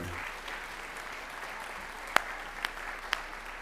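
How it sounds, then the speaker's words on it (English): An audience at a senior class graduation awards ceremony applauds in a soft, distant, continuous wash of clapping, with a few louder, sharper claps standing out nearer the end. "Give them another round of applause."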